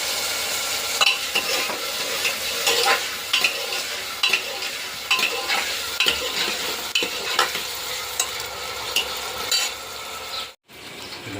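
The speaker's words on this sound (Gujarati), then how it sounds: "બટાટા પેલામાં વઘાર નાખી દીધા" Potatoes sizzle and fry in a spiced tempering in a pan, a steady crackling hiss broken by repeated scrapes and clinks of a stirring spoon, with a brief drop near the end.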